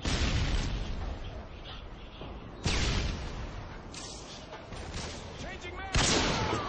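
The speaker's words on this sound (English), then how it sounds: "Tossing stun grenade!" In a shooter video game, a stun grenade goes off as a sharp, loud bang amid ongoing gunfire and blasts, with a second sudden bang near the end and voices talking throughout.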